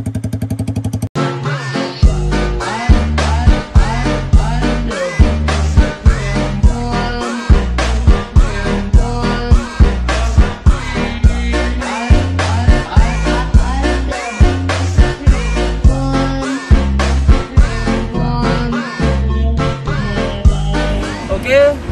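A Yamaha R15 motorcycle fitted with a truck exhaust revs over and over in a deep, throaty burst pattern, loud and close, with a rough, booming exhaust note.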